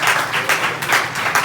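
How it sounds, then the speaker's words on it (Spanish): A church congregation at a Spanish-language service breaks into dense, sustained applause, loud and close, in a continuous wash of many hands for about a second and a half. "Denle ese aplauso."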